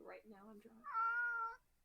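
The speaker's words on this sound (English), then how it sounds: "that was the cat." A person speaks briefly, then a nearby cat gives one long, clear, drawn-out meow lasting about half a second.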